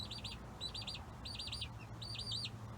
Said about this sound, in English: got a lot of little birds there